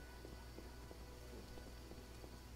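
Steady rain falling in the video game The Witcher, a continuous soft hiss of drops with faint scattered patters and a low rumble, quiet and unbroken with no talking.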